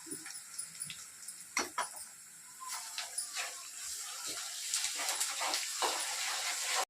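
Ginger garlic paste dropped into hot oil over fried onions sets off bursts of hissing and spitting that build into a denser, continuous sizzle, close and fairly quiet.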